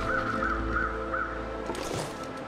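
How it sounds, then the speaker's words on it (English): Crows caw repeatedly in The Long Dark, four harsh calls in a steady rhythm over a low ambient wind bed, moderately close and clear with no talking. "Okay, so where's the other crows?"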